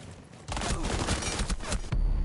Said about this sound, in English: LCS picking up another kill on the Crust with the shotgun